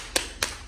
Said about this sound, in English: Big clap, big clap, big clap, big clap